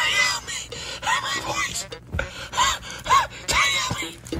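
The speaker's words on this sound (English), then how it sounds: "why are you breathing on me like that?" Heavy, gasping breaths blown close against someone, several ragged inhales and exhales in an uneven rhythm, loud and near, with whispery, moaning edges.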